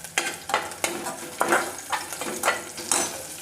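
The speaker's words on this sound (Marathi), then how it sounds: "किती छान मिरच्या मस्त तेलामध्ये तळलेल्या आहेत" Green chillies fry in oil for a traditional Marathi panchamrut, a steady close sizzle punctuated by about seven rhythmic stirring scrapes in the pan.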